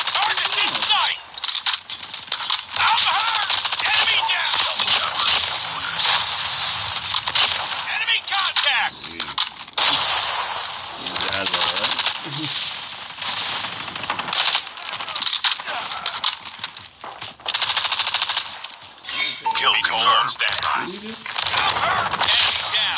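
Repeated bursts of automatic weapon fire and single shots ring out in a Call of Duty tournament match, loud and choppy, alongside game effects and a voice talking at times.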